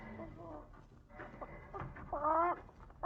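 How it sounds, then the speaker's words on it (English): A plump hen clucks in a series of short, close calls that build to a louder, drawn-out squawk near the end, set within a radio crime drama. "That's a chicken. She's a fat one."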